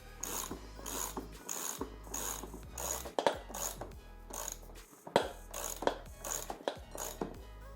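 Ratchet tightening the wheel nut on a 1000W 48V mini quad, a close, quiet run of rhythmic clicking strokes with short back-and-forth swings and small pauses between.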